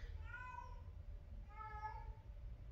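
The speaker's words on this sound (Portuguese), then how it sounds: "Uma gata fêmea, ó, no cio." Female cat in heat brought in for spaying, giving two drawn-out, wavering yowls close up against a low background hum.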